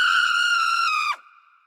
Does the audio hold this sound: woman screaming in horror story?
yes